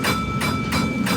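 A tram running on rails between stops, a steady rumbling roll with rhythmic swells and a faint constant tonal hum, moderately loud and close from inside the car.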